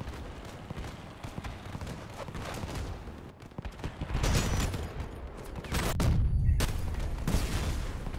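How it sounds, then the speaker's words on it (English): Rapid gunfire and booming explosions from grenade turrets in the Crossout vehicle combat game, dense and continuous, swelling louder in the second half. "someone's got grenades"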